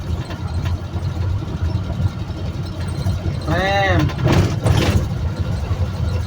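A Chery car's engine running steadily during a driving lesson, a low, even drone inside the cabin with small surges as it is revved, while people talk over it.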